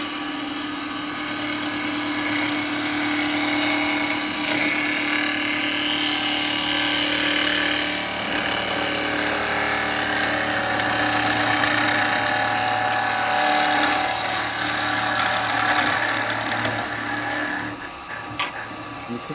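Wooden bowl spinning on a lathe as a gouge cuts through end grain, a steady continuous whirring, scraping drone that holds at even loudness for about eighteen seconds before easing off at the end.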